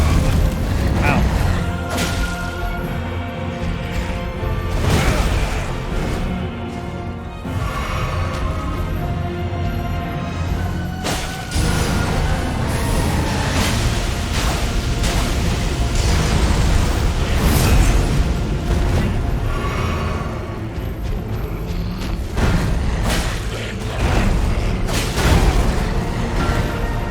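A boom from an enemy's explosive attack in Elden Ring bursts through a dense, continuous game soundtrack, with a player's voice talking over it.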